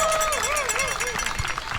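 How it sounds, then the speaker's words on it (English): A crowd at an outdoor No Kings rally in Hercules, California, claps and cheers, a brief burst of applause with a whoop or whistle rising over it. "give yourselves a round of applause"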